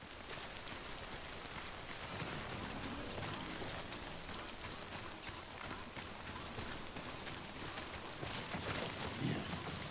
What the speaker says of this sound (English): This rain has got to stop.